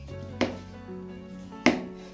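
A knife cuts orange flesh into pieces on a board, giving two distinct soft chopping knocks under a faint tonal background hum.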